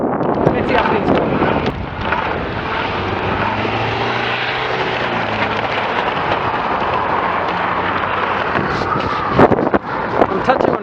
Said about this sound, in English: Riding into the wind, it's coming at a slight angle. There's a bit of wind